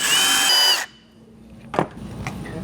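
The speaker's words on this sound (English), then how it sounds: "we're gonna drill through" A power drill bores through the hood mount on a 2025 Toyota 4Runner, a loud steady whir for under a second that cuts off abruptly, followed by a couple of faint clicks and handling noises.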